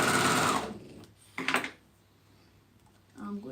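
Domestic sewing machine stitching fabric, a loud whirring run at the start, then a short second burst and a faint start at the end, with quiet pauses between.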